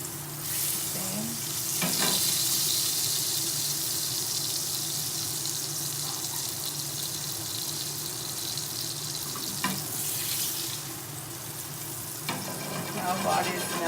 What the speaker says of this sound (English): Now butter is melting.